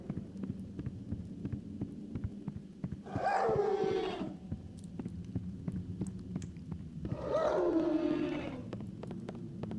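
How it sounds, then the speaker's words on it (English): Two long, moaning howls from a monster in the horror game Clive Barker's Undying, each lasting about a second, rising over a steady low hum with a quiet pause between them. "You know, aside from just the general howling."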